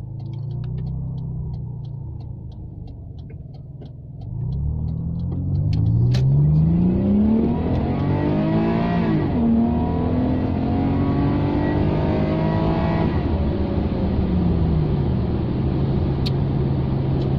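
A Rover 45 V6 engine idles, then revs up hard and holds at a high, steady roar, with pitch rising and falling through several throttle swells.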